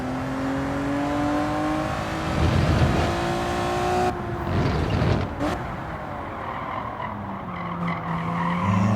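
A Honda NSX at Tsukuba Circuit in Gran Turismo 7 revs and shifts, engine tones rising and falling with tire squeal and skidding through corners, loud and close with no talk.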